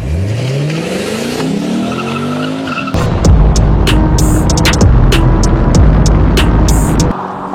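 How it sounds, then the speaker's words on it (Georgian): A V8 BMW M3 and a V8 Lexus IS F launch together from a drag start: rising engine revs give way to a loud burst of tire squeal and roaring acceleration that holds for several seconds before easing off. "რა კარგი სტარტი აქვს ორივე მანქანას"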